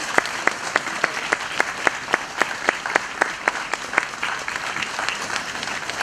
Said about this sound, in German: einen großen Applaus für die Mitarbeiter